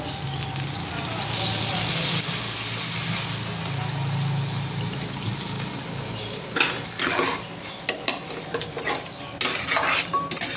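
A fish head cooking in a pot for muri ghonto, a steady roar of flame and sizzle giving way to loose clattering and scraping of utensils against the pot.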